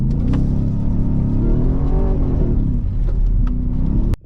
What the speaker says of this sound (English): having that V8 with that beautiful soundtrack